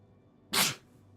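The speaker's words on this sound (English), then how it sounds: "I'm gonna sneeze" A single close, loud sneeze bursts out sharply in a quiet room and lasts about a quarter second.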